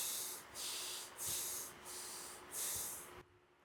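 Deep yogic breathing during a mudra practice: about five slow, airy breaths in and out, close and soft, each a rounded hiss with short pauses between, ending in quiet.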